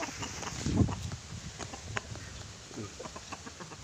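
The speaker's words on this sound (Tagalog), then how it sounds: "At ang mga manok na to, ito na sa ating piling." Chickens inside their coop give soft, low clucks and murmurs, close but faint, with scattered rustling and shuffling around them.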